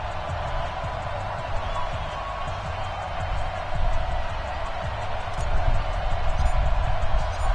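A stadium crowd in a Madden football video game roars in a broad, steady wash of noise before a Chiefs-Steelers kickoff, swelling slightly louder toward the end.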